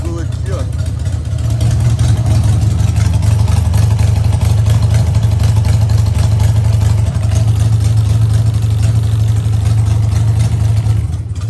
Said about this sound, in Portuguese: Moto vibra inteira, parece uma batedeira. Normal de Harley